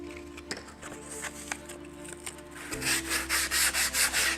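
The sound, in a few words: sanding wood with 80 grit sandpaper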